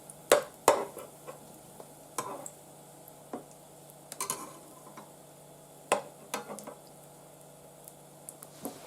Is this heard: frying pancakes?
yes